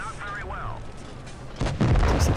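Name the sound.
tank cannon shots hitting, from video game World of Tanks Blitz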